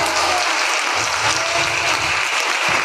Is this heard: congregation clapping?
yes